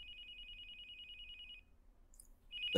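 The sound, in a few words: cell phone ringing in a video game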